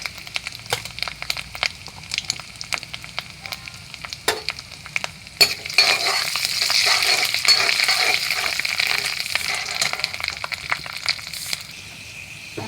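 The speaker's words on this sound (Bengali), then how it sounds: "দিয়ে দেব আদা কুচানো, দেব 5 ফোড়ন," Chopped ginger and five-spice seeds sizzle in hot oil with a steady hiss that swells after a few seconds, mixed with scattered crackles and stirring clicks, close and moderately loud.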